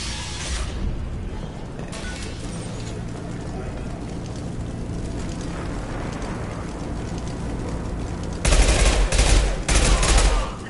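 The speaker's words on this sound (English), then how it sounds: "Blue Suns and Vorcha shooting anything that moves." Gunfire roars through a Mass Effect 2 battle in steady, dense bursts under a rumbling background, growing louder and harsher toward the end.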